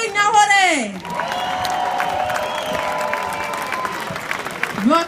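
A concert audience applauds after a performance by a singer from the Ivory Coast, clapping loudly and steadily with some cheers. A presenter's amplified voice is heard briefly at the start and again at the end.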